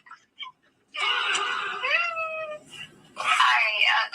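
A cat meows close by, with a couple of short chirps first, then a long, drawn-out, wavering meow and another loud, strained cry after a brief pause.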